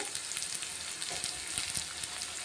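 Tempering spices and carom seeds frying in hot oil in an iron kadai, a steady close sizzle and crackle with scattered pops, loud and continuous without any talking.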